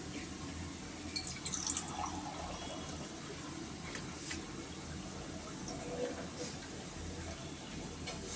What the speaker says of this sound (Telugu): కొంచెం వాటర్ పోస్తున్నాం ఫ్రెండ్స్.